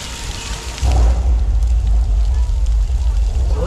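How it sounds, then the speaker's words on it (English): Heavy artificial downpour from a studio rain rig, sprinklers throwing extra-large drops onto a backlot set, a steady loud hiss that swells in after a softer start and holds, with people talking faintly underneath. "This rain made by our sprinkler systems. They're called rain rigs."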